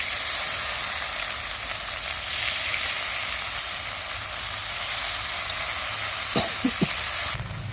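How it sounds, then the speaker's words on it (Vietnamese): Garlic and chili fry in hot oil while balut is being made in tamarind sauce, giving a loud, dense, steady sizzle close by, with a couple of short utensil clanks just before the end. "Bây giờ dầu đã nóng rồi, chúng ta sẽ bỏ cái phần tỏi ớt và chúng ta khử cho nó thơm là được nha quý vị."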